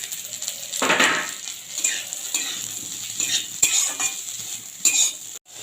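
Onion and capsicum frying with jackfruit, ginger, garlic and chilli in a pan, a bright sizzle broken by repeated spatula scrapes and clinks against the metal, close and fairly loud.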